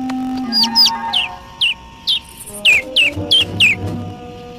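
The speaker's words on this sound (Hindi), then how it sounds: "ओ, एक नन्हा सा पंछी।" A small bird chirps in a cartoon scene, a run of about ten short, bright, high tweets in quick bursts, close and clear, with a faint low hum and some soft background rustle beneath.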